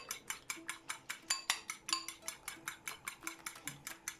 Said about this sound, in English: I scramble the eggs.